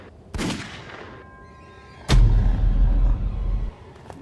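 Gunfire in an audio drama: two sharp blasts, the first followed by a fading tail, the second a heavy burst with a loud, rumbling barrage lasting over a second before cutting off.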